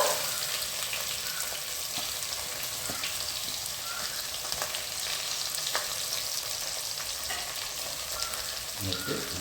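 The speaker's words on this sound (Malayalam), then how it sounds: "എണ്ണ ചൂടായി കഴിയുമ്പോൾ അല്പം കടുക് ശേഷം നമ്മൾ ചതച്ച് വെച്ചിരിക്കുന്ന ഇൻഗ്രീഡിയൻസ് എല്ലാം ഇട്ട് കൊടുക്കുക." Mustard seeds and crushed ingredients frying in hot oil for a kanthari chilli fish curry, a loud continuous hiss with dense crackling and popping, steady all the way through.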